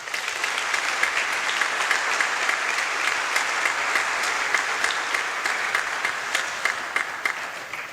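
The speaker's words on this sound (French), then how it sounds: "Acclamez pour ces personnes." A church congregation at Sunday Mass applauds together: dense, continuous clapping from many hands, close and loud, holding steady for several seconds before easing slightly at the end.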